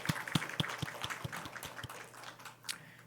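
A church congregation gives a short round of clapping during a Sunday worship service, with sharp claps in a loose, thinning rhythm over a low steady hum, fading out toward the end.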